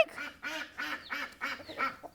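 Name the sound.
duck quacking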